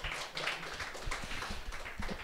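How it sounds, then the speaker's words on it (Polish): A small group claps in a quick, uneven patter of close hand claps lasting a couple of seconds, fairly quiet and not especially full. "To może oklaski dla mnie."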